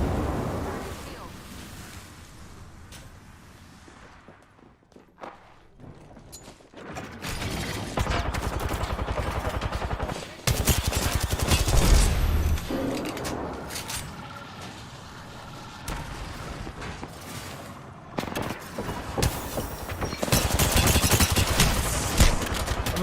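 Heavy enemy gunfire in the battle royale game Apex Legends, with loud sustained automatic bursts and rattling volleys coming in waves over about twenty seconds, mixed with game effects and brief voice callouts.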